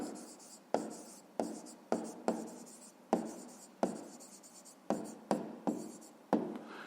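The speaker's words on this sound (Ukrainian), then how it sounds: "записуємо відповідь, пишемо відповідь" A math exercise answer handwritten on paper, about a dozen sharp pen strokes and taps in an irregular rhythm, each with a quick scratching tail, close and quiet with no talking.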